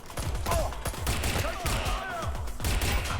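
Gunfire in Watch Dogs Legion: rapid bursts of shots crack in quick succession across the whole moment, loud and close, with a voice talking faintly underneath.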